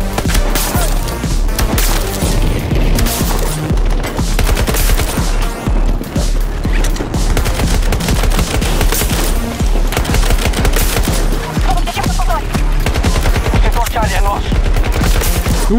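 Rapid, dense bursts of gunfire in Battlefield 2042, loud and sustained, with overlapping shots and impacts filling the whole stretch.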